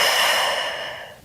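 A single exhaled breath during a prenatal pilates stretch, a soft airy close whoosh that fades out over about a second.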